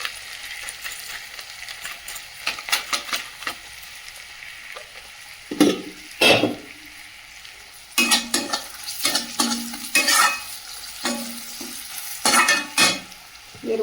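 Ground coriander, cumin and Kashmiri chili powder frying with turmeric in a hot pan, a steady close sizzle broken by repeated scraping strokes of a spatula stirring the spices.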